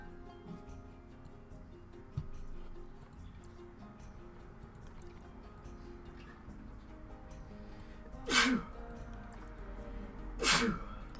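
Two sharp, loud sneezes ring out near the microphone several seconds apart, cutting through an otherwise quiet room tone with faint background noise.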